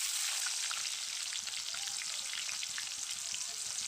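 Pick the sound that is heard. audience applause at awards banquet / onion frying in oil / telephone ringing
onion frying in oil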